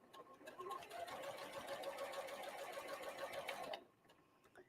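A sewing machine stitches quilt block seams for a windmill star block, running in one steady continuous burst for nearly four seconds before stopping, leaving quiet room tone.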